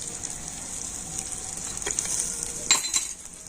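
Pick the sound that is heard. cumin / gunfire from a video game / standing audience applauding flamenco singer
cumin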